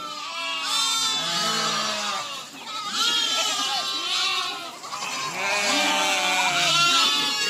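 A village flock of goats and sheep bleats continuously, many overlapping calls close and loud, rising and falling in waves with no voices heard.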